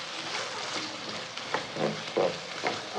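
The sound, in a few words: stirring spiced keema and potatoes in a pan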